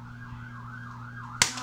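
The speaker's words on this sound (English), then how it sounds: "It's not police. It's ambulance, right?" A toy ambulance siren: a faint wavering electronic wail rising and falling over a steady hum, ended abruptly by a sharp click or knock near the end.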